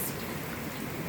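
Steady rain falling in Haast on the west coast of New Zealand, a continuous broadband hiss of drops on surfaces, fairly close and even throughout with no voices.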